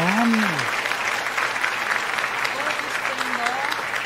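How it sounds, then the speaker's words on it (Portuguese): Applause during a live cowboy painting lesson, a steady even wash of clapping that runs throughout, with a voice speaking over it at the start. "Vou, vou dar um aplauso para você aqui."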